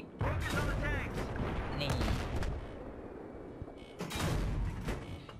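Battlefield 3 gunfire crackles in bursts around tank combat, with loud broadband volleys near the start, around two seconds and again after four seconds, with voices talking over the action.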